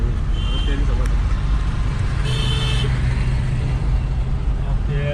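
A Hyundai Santro Xing on an Indian road, its engine droning steadily in the cabin with road and traffic noise around, a horn tooting once in the middle while people talk over the sound.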